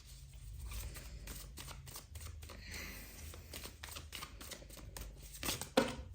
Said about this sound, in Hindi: I have to shuffle for more time